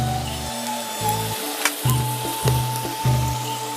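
Onion paste, garlic and onion frying in a pan with spices for a home-style chicken roast: a steady, close sizzle throughout, with music playing over it and a few brighter spatters.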